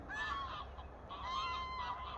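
Waterbirds honk at a lake nature reserve at Lackford Lakes in Suffolk, a few drawn-out calls carrying faintly from a distance over quiet outdoor ambience.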